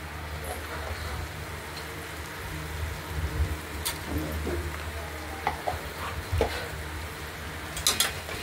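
Moong dal stirred in a pressure cooker after a tempering of oil, dried red chilli, bay leaf and cumin, with salt and turmeric: a low simmering hiss broken by scattered metal scrapes and clinks of a spoon against the pot.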